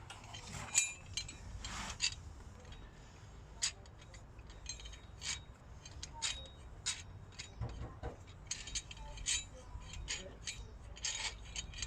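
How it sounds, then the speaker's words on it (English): Spring compressors being tightened on a Land Rover Discovery 2 Td5 coil spring, a quiet run of close mechanical clicks and ratcheting ticks in irregular bursts over a faint background. "So first we're going to compress this spring."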